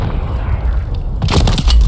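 A sniper shot in Call of Duty Warzone lands as a sharp, loud crack with a booming tail, coming suddenly after a stretch of low game ambience.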